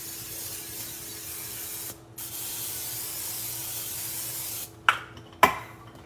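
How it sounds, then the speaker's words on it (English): Cooking spray hisses onto a hot griddle for a country breakfast with pork chop: a long steady spray, a brief pause, then two short sharp bursts near the end, close and loud with no talk. "Let me get my spray."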